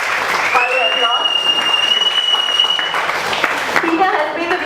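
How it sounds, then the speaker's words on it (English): Audience applause for a trek organiser at a trekking club event, dense clapping throughout with a sustained whistle or tone and some crowd voices mixed in, loud and close. "Let's give a round of applause."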